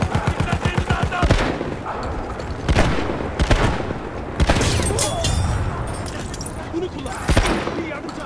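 Rapid shotgun blasts from a 12 gauge in Battlefield 1, a dense string of loud, sharp shots with a fast, uneven rhythm and a few heavier booms, while someone talks throughout.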